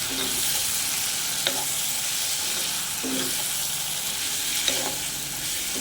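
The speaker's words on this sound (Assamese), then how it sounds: "আৰু এতিয়া ভালকৈ এইখিনি মিক্স কৰি দিম।" Chicken masala sizzles steadily in a pan, frying without water, while a utensil scrapes and stirs it in a few separate strokes, close and clear.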